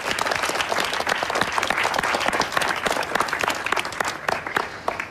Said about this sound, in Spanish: ¡Un fuerte aplauso para Vale!